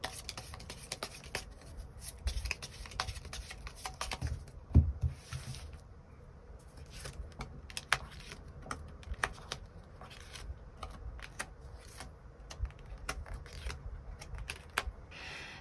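Tarot cards are shuffled and drawn in soft, quick bursts of papery flicks and taps that rattle on steadily and close up, with no voices.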